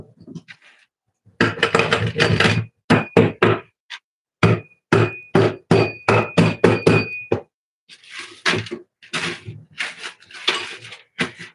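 Hammer blows crushing hard candy canes on a kitchen counter while making chocolate peppermint fudge balls, a long run of sharp, loud knocks in irregular bursts, some rapid and clustered, with short pauses between.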